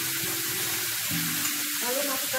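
Grated tomato tipped into a pan of cooked shallots and sizzling steadily, with low tones and faint murmur underneath.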